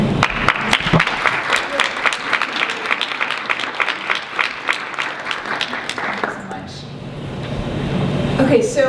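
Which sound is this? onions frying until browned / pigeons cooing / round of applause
round of applause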